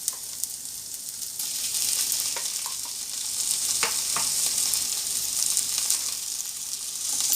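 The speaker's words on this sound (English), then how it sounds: "I'm going to add 1 large tablespoon of ginger garlic paste" Ginger garlic paste sizzles in hot oil with golden brown onions for a chicken curry leaves gravy, a steady close crackling hiss with a few stirring scrapes and no talk.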